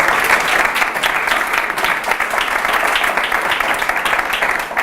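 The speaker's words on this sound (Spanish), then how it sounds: "hacedme un aplauso muy grande para animarme" Big, sustained round of applause from an audience at a public speaking talk, dense and loud, filling the whole stretch without a break.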